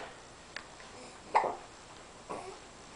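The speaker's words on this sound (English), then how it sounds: "You got hiccups?" A baby's hiccups: two or three short, soft hiccups spaced about a second apart, close by in a quiet room with no talking.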